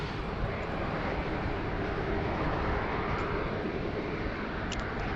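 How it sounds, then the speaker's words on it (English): An older-generation Airwork Boeing 737-400 Classic at Sydney Airport has its jet engines starting up, a steady, broad roar and whine at moderate distance that holds level throughout without any voices. "the older generation 737-400 here, just starting up"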